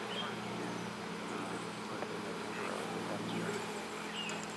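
Honeybees buzz steadily around an open hive box holding brood, a continuous moderate drone with low hum bands, no speech over it.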